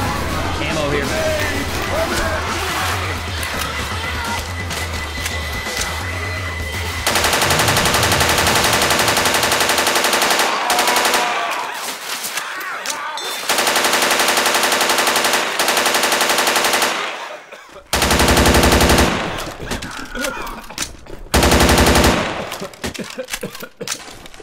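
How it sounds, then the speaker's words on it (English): Heavy gunfire from a big gun in Left 4 Dead 2, loud sustained bursts of rapid shots broken by short pauses, with voices talking over parts of the shooting. "This is a big gun."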